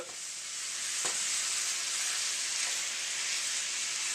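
Ground beef sizzles and fries steadily in a pan, a dense continuous crackle with a couple of brief scraping stirs from a spatula, close and loud with no talking.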